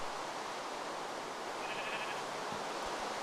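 Sheep in the Minecraft video game bleat briefly over a steady wash of broadband background noise, a short thin call near the middle and no talk.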